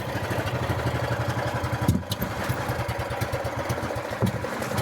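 A flooded engine catches and keeps running, a loud, close, steady chugging idle with a short dip partway through before the rhythm picks up again.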